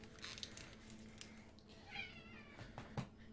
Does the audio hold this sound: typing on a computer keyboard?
no